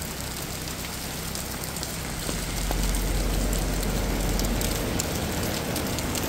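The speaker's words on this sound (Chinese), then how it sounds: "在樟木头这边又下大雨了" Heavy rain pours steadily on an outdoor street in Zhangmutou, Dongguan, a dense continuous hiss that swells louder midway through, with no voices.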